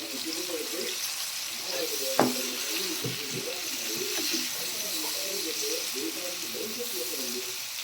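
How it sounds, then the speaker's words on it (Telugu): Vegetables sizzle in a pan with a constant close hiss, and a utensil stirring them knocks sharply against the pan a couple of times. "ఇవన్నీ వేసి బాగా ఉడకాలి. అవి ఇవన్నీ మంచిగా కలుపుకోవాలి కదండి."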